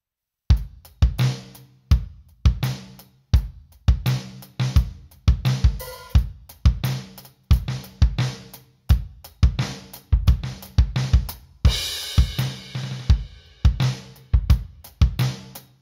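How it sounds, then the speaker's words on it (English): Electronic triggered drum kit played in a steady groove, sharp accented hits mixed with softer ghost notes, close and loud with a denser cymbal-like wash partway through, no talking. "So you want to apply that to the drum set so it'll sound something like this."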